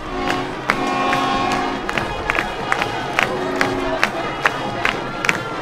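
Football crowd at a high school game as the Howe Bulldogs take the field at the Rains Wildcats, steady broad crowd roar with scattered sharp whistles and shouts rising above it throughout.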